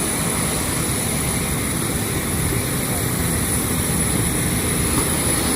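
Steady, loud aircraft engine drone beside a passenger plane at an airport boarding area in Kathmandu, Nepal, a continuous broadband roar filling the whole stretch with no breaks.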